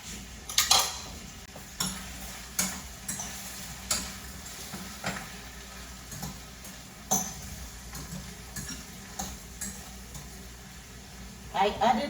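String beans seasoned with salt and pepper are stirred in a pot, giving a steady rhythm of spoon scrapes and light metallic clinks over a soft background, with a person talking at times.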